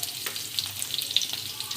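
Mustard seeds and curry leaves crackling in hot oil for a tempering, a steady close sizzle with bright pops and spatters throughout.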